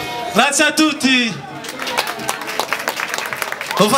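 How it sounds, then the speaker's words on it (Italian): An audience at a live music performance breaks into applause after a song, with a voice speaking over the start before the clapping spreads into a dense, sustained patter with a few scattered shouts. "Lo facciamo un applauso forte a questo bravo ragazzo."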